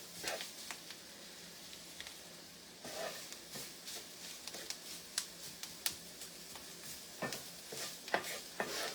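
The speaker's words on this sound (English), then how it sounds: "you're going to scrape the bottom of your pan to get those little chunks and stuff up" A spoon scrapes the bottom of a pan while roux is stirred, making a series of quiet, irregular scraping and ticking strokes over a faint sizzle.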